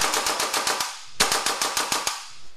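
A WE AK74 UN gas blowback airsoft rifle, low on gas, fires two rapid full-auto bursts of about seven shots each, with a sharp, close clack from each cycling bolt.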